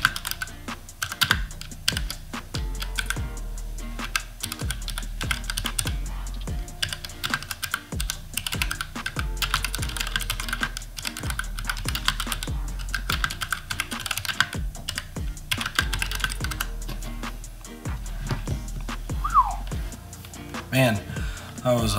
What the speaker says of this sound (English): start the typing test